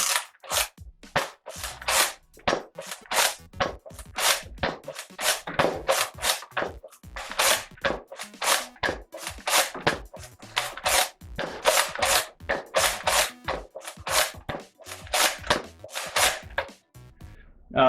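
A Nerf Slingfire lever-action dart blaster is repeatedly cocked and fired, making a rapid, close run of sharp plastic clacks and snaps at an uneven rhythm for about eighteen seconds.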